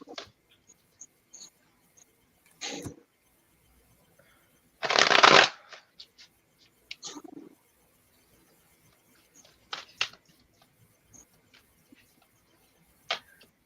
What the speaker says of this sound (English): So we like ASMR shuffling sounds.